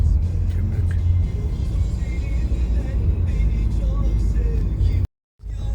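Constant low rumble of road traffic with cars droning past nearby and faint voices underneath, cutting out abruptly near the end.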